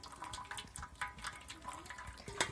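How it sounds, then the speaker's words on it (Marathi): Water drains from cooked lentils in a home kitchen, a faint trickling and splashing with small drips and clinks, fairly close but quiet. "व्यवस्थित पाणी काढून घ्यायचं"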